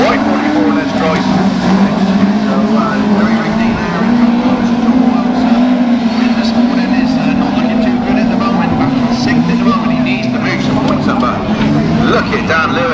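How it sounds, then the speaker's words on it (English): Class 5 autograss race cars roar around a grass track at a national meeting, a loud continuous engine drone shifting in pitch as the field passes, with a commentator talking over it throughout. "Look at Dan Lewis, he's absolutely motoring."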